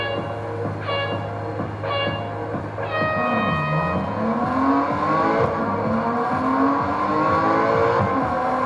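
A BMW engine in a racing video game revs in short rising bursts, then climbs in a long sweeping acceleration with gear-change dips. The engine sound is loud and continuous, with no talking.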